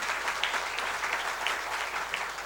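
Steady, sustained audience applause at a lecture event, an even wash of clapping from many hands heard at moderate distance without interruption.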